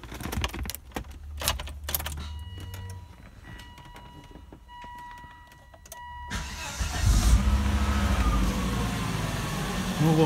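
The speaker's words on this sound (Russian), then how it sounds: "Вот так двигатели работают на холодную." A Volvo car that has stood for two days starts from cold after a few clicks and rustles, then settles into a loud, steady idle.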